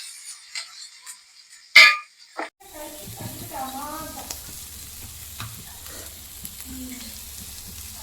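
Paneer and pepper frying lightly in a pan, a soft steady sizzle that starts after a couple of sharp clinks and knocks, with faint stirring scrapes running underneath.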